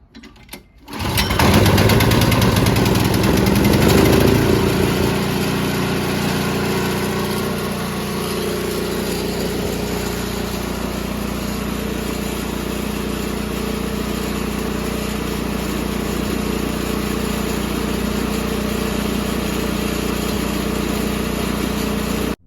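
A Toro snow thrower's small engine starts up with a rough burst, then runs loud and close with a steady, buzzy idle and slight fluctuations in its rhythm.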